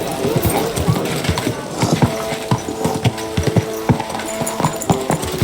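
Steady clip-clop of horse hooves trotting at an even rhythm in a city in the video game Kingdom Come: Deliverance II, with voices talking over the hoofbeats and a busy ambient background.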